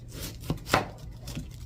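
A knife cutting through an onion on a board makes two or three quick, close chops in a brief burst, with no voices.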